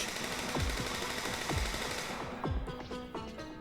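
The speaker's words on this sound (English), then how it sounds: "It was just then that the group heard gunshots from behind." Sharp bursts of gunfire crack out in a loose sequence, roughly four shots over a dense, noisy backdrop of synthetic game-like sound.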